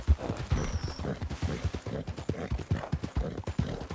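Horse hooves clip-clop in a steady, close rhythm on a street in the Red Dead Redemption 2 video game, with ambient game sound underneath.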